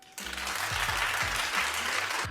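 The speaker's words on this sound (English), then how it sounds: "clap if you think she should suffer" Sudden burst of applause, a dense, steady patter of many hands clapping that holds for a couple of seconds, with faint voices beneath.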